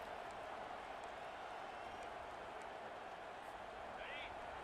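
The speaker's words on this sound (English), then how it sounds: "this crowd is fired up. Listen to this noise here." A dense, steady roar of a large stadium crowd in a college football video game, constant and loud throughout, with faint whistle-like tones and a brief chirp near the end.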